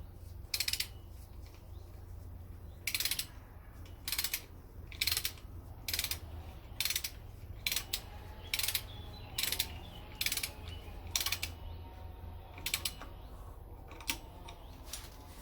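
Ratcheting wrench tightening a new nut onto the crankshaft pulley of a VW Polo 1.2, giving bursts of sharp clicks in an irregular rhythm over a low steady hum, close by with no talk.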